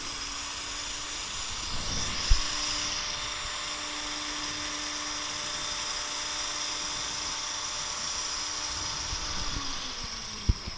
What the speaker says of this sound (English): So this back roller is controlled by this motor